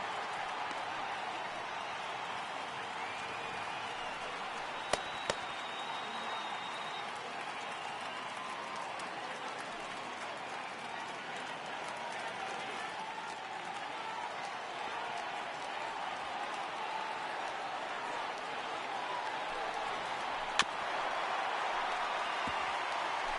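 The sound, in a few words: baseball stadium crowd cheering on their feet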